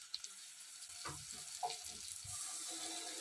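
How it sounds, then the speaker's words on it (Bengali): Onions, chillies and tomatoes frying together in a pan for a jackfruit curry, with a soft sizzle and a few faint stirring knocks. "পেঁয়াজ, লঙ্কা, টমেটো সবগুলোকে ভালোভাবে ভেজে নিতে হবে।"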